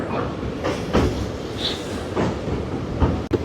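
A train rumbling along the rails on the Madurai to Rameswaram line with a regular clickety-clack beat and a brief sharp clank, heard from on board.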